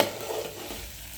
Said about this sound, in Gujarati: આદુ લસણ મરચાંની પેસ્ટ નાખી છે ઉર્વીએ.